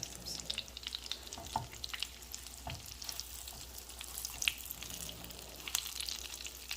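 Pork chops browning in a pan, a soft crackling sizzle with scattered pops and occasional light knocks, fairly quiet and without speech.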